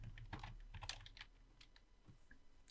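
Numbers being typed into an Excel spreadsheet on a computer keyboard: a quick, soft run of close key taps over a faint steady hum, no talking.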